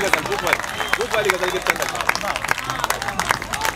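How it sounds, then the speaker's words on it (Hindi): Applause from a mushaira poetry recital audience in Hyderabad, clapping mixed with crowd murmur and voices throughout, fairly close and steady rather than a single burst. "जोरदार तालियां"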